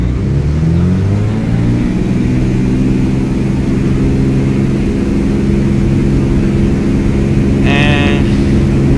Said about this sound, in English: apply full throttle